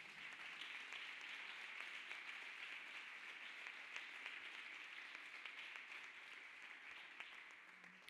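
A church congregation claps hands in a steady, dense wash of applause, distant and faint throughout.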